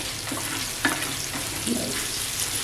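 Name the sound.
clams (shimple) sizzling in oil on a tawa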